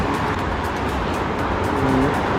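A car speeds past on a street by a long-running pork-leg rice shop in Khlong Toei, Bangkok, its engine roar loud and steady, swelling slightly as it nears.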